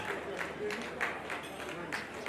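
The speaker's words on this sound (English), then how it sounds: "Can we please give a resounding applause?" A crowd at the investiture of the 5th President of the Real Estate Developers Association of Nigeria claps in steady, dense applause, with a voice speaking over it.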